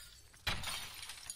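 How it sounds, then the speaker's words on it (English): Glass shatters from a gunshot in the video game Escape From Tarkov, a single sudden crash followed by a brief spray of tinkling shards that fades quickly, fairly close and on its own. "Shoot through the glass"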